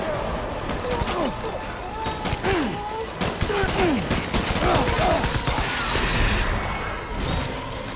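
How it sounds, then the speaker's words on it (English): Rapid gunfire bursts and booming impacts from a battle in the video game Death Stranding, dense and continuous over eight seconds with rumbling vehicle-like noise underneath and crisp crackling shots throughout. "Open fire!"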